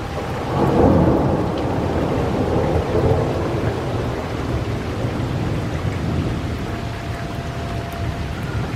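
Severe thunderstorm over Independence, Missouri: loud rolling thunder builds near the start and rumbles on over steady heavy rain falling on surfaces, with no voices.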